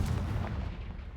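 A Confringo fire spell bursts in Hogwarts Legacy, giving a heavy, booming explosion with a rumbling crackle that stays close and loud for a brief moment, with no voices.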